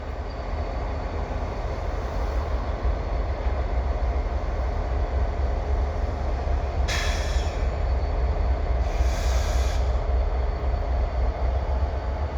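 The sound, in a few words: CSX freight train with SD42 locomotive rumbling past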